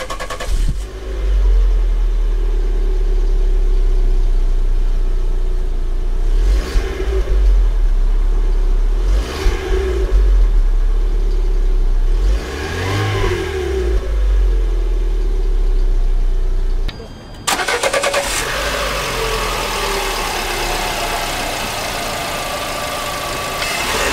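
A 2019 Lada Largus van with a transverse 1.6 engine cranks, catches and settles into a steady idle, with a few brief revs rising and falling before a sharp shift in the sound near the end.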